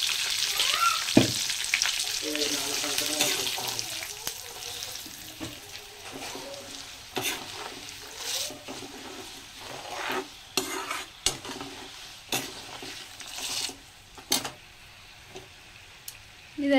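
A pan tempering curry leaves and turmeric sizzles and fries steadily, with repeated stirring scrapes and clinks of a spoon close by, no talk over it.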